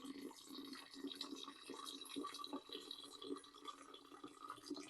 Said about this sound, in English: And now we're going to add hot water to dilute it